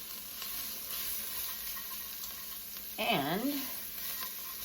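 Smoked paprika sizzling in a pot for pinto bean soup, a steady close frying hiss throughout, with a brief spoken word partway through.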